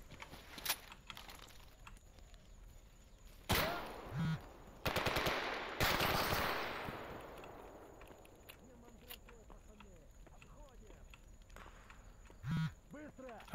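Gunfire in the video game STALKER sounds as several sharp shots and short bursts, spread irregularly across a quiet stretch, with a louder cluster in the middle and a voice talking softly between them.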